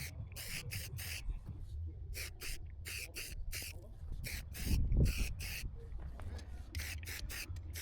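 Aerosol spray can hissing in a rapid run of short bursts while chalking a house foundation, each spurt sharp and close, with a low rumble of background activity beneath.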